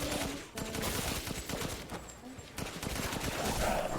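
Rapid automatic gunfire from the survival horror video game Resident Evil Village rattles in dense, continuous bursts, loud and close throughout.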